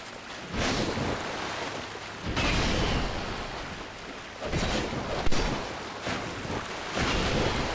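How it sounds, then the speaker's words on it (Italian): Rising water in Dark Souls 2 gives a continuous rushing, surging wash of water that swells and recedes in broad waves, loud and enveloping, with a few sharper knocks within it. "Sta salendo pure il livello dell'acqua!"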